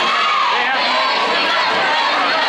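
A loud, dense crowd roars and cheers in a high school gym at a boys basketball game, shouts blending into one sustained wall of noise throughout.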